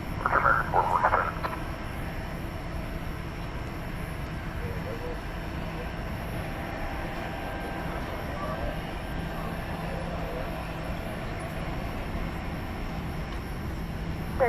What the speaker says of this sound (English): Well, that is a substantial aeroplane.